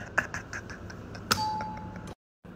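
A doorbell rings with two bright chime strikes, the second ringing out into a sustained tone before the sound cuts off abruptly.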